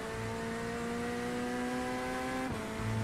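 A McLaren GT3 race car in a racing game, its engine a steady, loud tonal drone that dips briefly with a gear change before pulling on, no voices over it.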